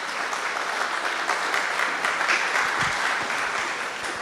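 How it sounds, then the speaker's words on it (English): An audience at an early-morning lecture claps steadily, a dense even wash of applause throughout. "So give yourself a round of applause."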